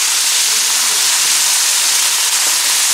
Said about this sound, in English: Saute it nicely until this carrots and beans are cooked well.